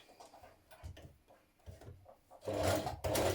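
A sewing machine begins a straight stitch around a curve in a dress seam. Soft handling clicks come first, then a close, steady whirr starts near the end.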